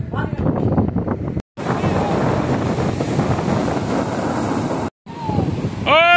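Sea waves and wind on Puri beach make a loud, continuous wash of surf with strong gusts buffeting the microphone, broken by two brief dropouts.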